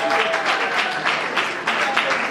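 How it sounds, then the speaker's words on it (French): An awards ceremony audience claps loudly, a dense and close burst of applause that swells in waves, with faint voices mixed underneath. "Est-ce qu'on peut applaudir bien fort?"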